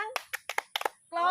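Children in a classroom clap their hands in a group clapping game, a quick run of sharp, uneven claps in bursts, followed by voices talking.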